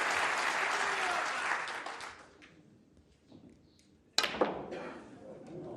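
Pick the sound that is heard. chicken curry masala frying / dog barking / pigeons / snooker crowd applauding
snooker crowd applauding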